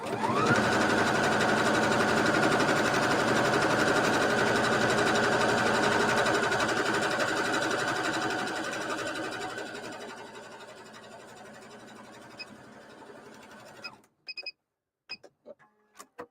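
A sewing machine stitches continuously in a long steady run, a loud close motor hum with rapid needle chatter that slowly fades off, followed by a few quick clicks and taps.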